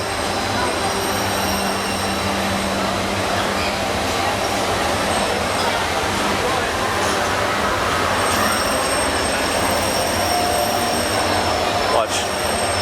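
A red Disney monorail train passes steadily with a continuous rolling rumble and faint wheel squeal, mid-distance, under a general outdoor background.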